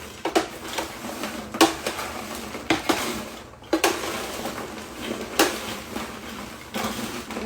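Popcorn coated in melting chocolate for Snickers gourmet popcorn is turned over and over on a tray, making intermittent clattering scrapes and metallic knocks, close and moderately loud.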